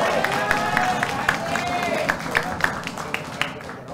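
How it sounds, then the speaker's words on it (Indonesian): Crowd applause at a public forum for the 2024 Bandung mayoral and vice-mayoral candidates, a steady dense wash of clapping with scattered sharper claps and light cheering across the whole stretch. "Boleh kita kasih tepuk tangan yang meriah."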